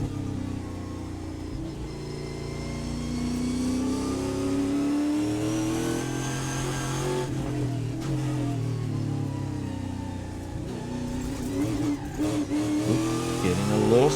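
A Trans Am race car at Portland International Raceway, heard onboard, holds a steady mid-pitched engine roar as revs climb and shift through a lap, with faint commentary underneath.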